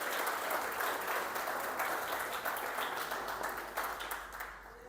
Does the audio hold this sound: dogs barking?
no